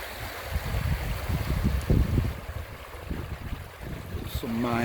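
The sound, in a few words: flowing stream or river in the Scottish Highlands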